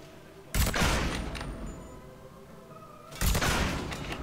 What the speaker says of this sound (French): ils nous tirent de loin avec un pistolet